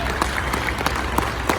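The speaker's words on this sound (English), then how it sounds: "let's have one more applause for the Marines for being here today." A crowd at a Toys for Tots opening ceremony applauds Marines who arrived with a big seven-ton truck, giving loud, sustained clapping with a few sharper individual claps standing out.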